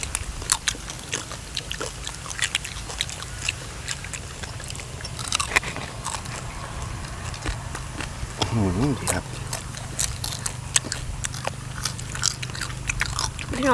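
Crispy pork belly with crackling skin being bitten and chewed close to the microphone, sharp crunches and wet chewing recurring through the stretch, with occasional talking in between.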